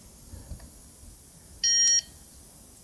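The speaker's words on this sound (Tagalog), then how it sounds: "Tanggalin ko yung buzzer." A buzzer on a tester for a Toyota 4WD front differential actuator gives one short, loud, steady electronic beep lasting under half a second, standing out alone against a quiet background.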